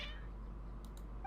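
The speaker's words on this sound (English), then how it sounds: "Your cats seem pretty worked up." Video game cats meowing, a short faint cry at the start followed by quiet low hum, with a couple of brief soft clicks near the end.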